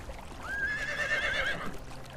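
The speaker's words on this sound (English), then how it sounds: "Come to me, horsey." A horse in the game Conan Exiles lets out a single clear whinny lasting about a second, moderately near, over a quiet ambient background.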